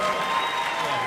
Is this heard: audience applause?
yes